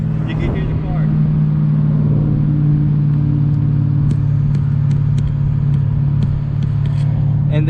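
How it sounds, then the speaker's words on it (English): A manual stick-shift car engine revs up from idle, a loud steady low rumble that rises and holds, close and continuous, with faint clicks over it. "you're gonna start hearing my car. You can hear the car."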